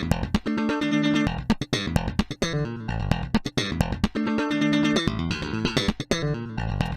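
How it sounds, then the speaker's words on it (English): A dry, soloed slap bass line with busy percussive thumps and snapping pops in a steady groove, loud and close, with no other instruments. "I got a slap track and dry soloed. It sounds like this."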